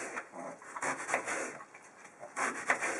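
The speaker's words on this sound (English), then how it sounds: "And slice them into about 1/4 inch slices" A knife slices through onions on a cutting board in a quick series of soft, close strokes and thuds with an uneven rhythm and no speech.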